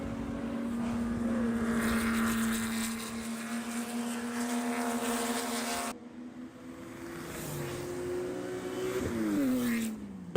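Race cars on their warm-up lap at a PCA club race at Laguna Seca: a loud, sustained engine drone that rises and falls in pitch as cars pass, with a brief dip midway.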